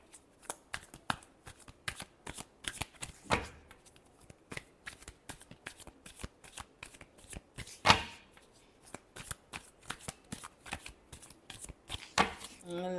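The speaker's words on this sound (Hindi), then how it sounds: "Last shuffle." Tarot cards are shuffled close up in quick, uneven bursts of riffling and slapping, with a few sharper snaps among softer handling sounds, while a voice speaks quietly in the background.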